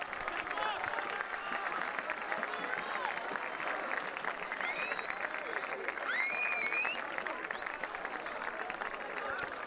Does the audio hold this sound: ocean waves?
no